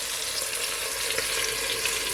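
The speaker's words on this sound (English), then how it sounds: "So it's been frying for at least 4 minutes on each side." Jamaican brown stew chicken pieces fry in a pan with a steady, bright sizzle and crackle, close and continuous, with no talking.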